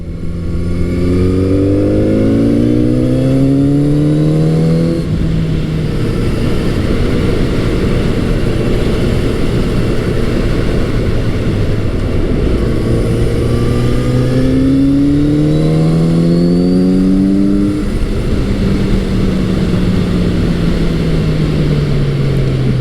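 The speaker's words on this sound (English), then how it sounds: "the amount of pull that this bike has in the mid-range is awesome" A naked motorcycle engine revs up through the gears, pulling strongly in the mid-range around 4,000 RPM, its pitch climbing repeatedly with shifts, loud and steady under constant wind noise.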